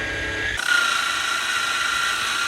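A power sander whirs up and runs steadily with a bright, high-pitched grinding hum, loud and close, sanding a boat hull.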